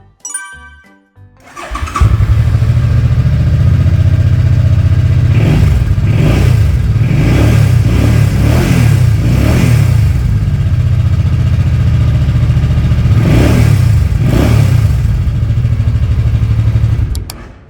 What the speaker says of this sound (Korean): 순정 머플러 소리 한번 들어보겠습니다